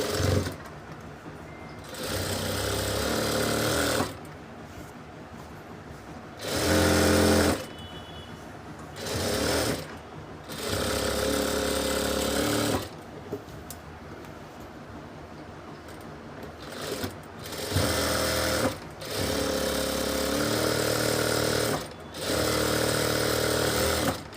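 A sewing machine stitching a ladies' salwar pant runs in loud, close bursts of steady whirring, repeatedly stopping and starting with short quiet gaps between runs.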